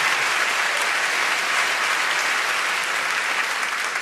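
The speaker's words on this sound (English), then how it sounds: "give yourselves a massive round of applause for coming out and raising money for a good cause." A large comedy festival audience breaks into sustained, dense applause, steady and loud with no break throughout.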